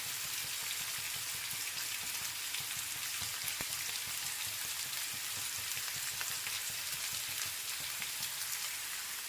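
Onions frying in a pan for an egg paddu recipe, giving a steady, even crackling sizzle that runs throughout without a break, fairly close, with no talking.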